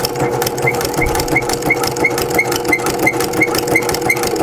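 A sewing machine stitches a coupon wallet in steady, rapid mechanical runs with a regular ticking rhythm. It is close and fairly loud, with no talking.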